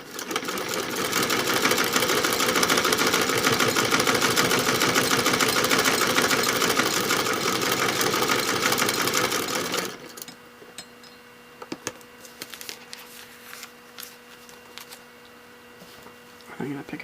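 A sewing machine stitches quilt fabric pieces at a steady, loud whirring run for about ten seconds, then stops, leaving quiet handling noises and scattered clicks.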